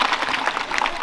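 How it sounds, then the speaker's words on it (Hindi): Students at a government school in the hills applauding together, a dense steady clatter of many hands clapping close by for about a second. "जोरदार ताली।"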